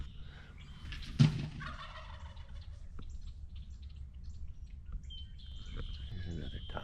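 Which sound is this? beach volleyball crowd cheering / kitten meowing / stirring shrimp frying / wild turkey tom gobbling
wild turkey tom gobbling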